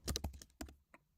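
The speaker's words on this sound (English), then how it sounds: "I start typing max login attempts" Quick, crisp keystrokes on a computer keyboard while coding in Python: a burst of clustered clicks, a pause, a few more taps, then a faint last one, all close and quiet.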